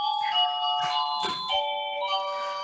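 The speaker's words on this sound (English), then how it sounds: "that's my bell." Doorbell ringing indoors during a spiritual talk: a melodic electronic chime of sustained tones stepping through several notes, fairly soft and clear, with no talking over it.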